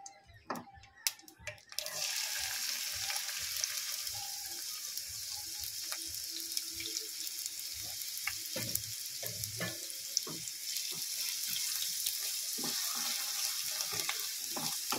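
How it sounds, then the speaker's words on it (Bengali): Dry whole spices hit hot oil for dhaniya chicken, giving a steady close sizzle with scattered crackles and pops, after a short quieter start. "তেল গরম হয়ে গেছে, শুকনো মশলাগুলো দিয়ে দেব।"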